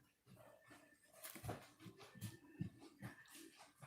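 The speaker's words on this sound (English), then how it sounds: "Can someone do something about this dog out here?" A dog outside whimpers and gives soft, faint yips and barks in a short, irregular series, distant and low in level against a quiet background.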